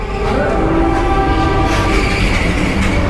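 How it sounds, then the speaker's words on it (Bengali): Puri-Howrah Vande Bharat Express pulling out of Puri, a loud sustained horn over the deep rumble and clatter of the moving train, close and continuous. "ঠিক 1:50 ট্রেন কিন্তু পুরী থেকে ছেড়ে দিয়েছে।"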